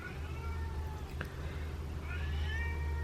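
A cat meows indoors, a short clear call standing out once over a steady low background rumble, with a fainter drawn-out meow following near the end.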